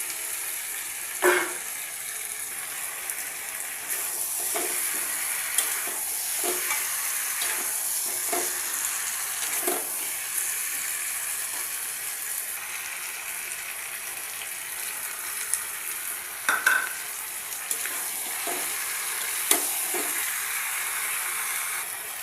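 Fried potato and papaya are stirred into mutton cooking in a pot: a continuous soft sizzle broken by repeated clinks and scrapes of a spoon against the metal.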